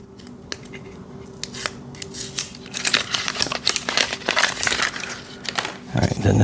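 Packaging is pulled off a flux core welding wire spool with close crinkling, tearing and sharp plastic snaps that grow busier and louder toward the end.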